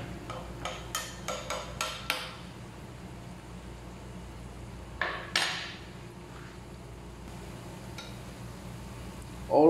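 A pot of squid curry being stirred, with a run of sharp metallic clinks and scrapes of a utensil against the cookware, then a quiet pause and a few more taps over a faint background hum.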